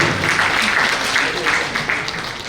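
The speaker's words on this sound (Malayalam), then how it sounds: "അതിനെങ്കിലും ഒരു കൈയടി" An audience at a higher secondary economics teachers' association event claps in a dense, continuous round of applause that tapers slightly toward the end.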